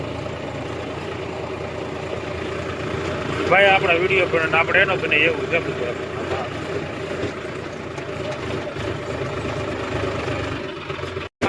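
A tractor engine idles with a steady low rumble close by, holding an even level throughout while people talk over it.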